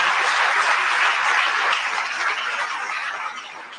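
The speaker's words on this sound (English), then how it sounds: "you hear that applause?" Crowd applause greeting an LGBTQI rights activist from Argentina, a broad wash of many hands clapping that stays full for a few seconds before slowly thinning and fading.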